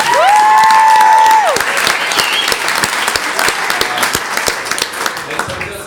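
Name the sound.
applause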